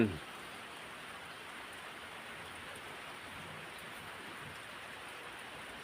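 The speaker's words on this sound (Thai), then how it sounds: "ฝนตกแล้ว" Steady rain falls in cold weather, a dense, even hiss of drops on surfaces that holds constant throughout with no voices.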